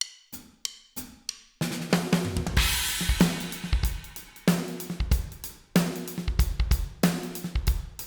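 Punchy sampled drum kit plays alone: a few sharp opening hits, then a driving beat of deep kicks, snappy snares and crashing cymbals, loud and close.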